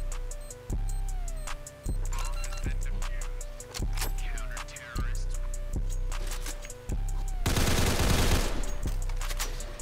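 Rapid M4 rifle fire in the Counter Blox video game, with repeated bursts of loud, sharp shots over game music and effects, ending in a dense burst of automatic fire near the end.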